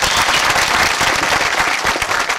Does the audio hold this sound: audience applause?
yes